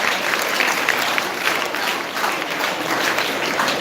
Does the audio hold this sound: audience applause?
yes